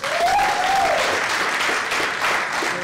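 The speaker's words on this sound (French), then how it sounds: "Merci d'applaudir Marie Hénard" Audience applause fills a round-table session at a fear-themed film festival, a dense steady wash of clapping from a crowd, loud and sustained throughout, with a faint voice tone briefly audible near the start.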